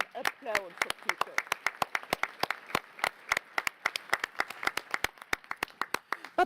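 A room of committee delegates at an annual session in Vancouver gives sharp, individual handclaps in an uneven rhythm, fairly close and moderately loud, with a brief voice at the start.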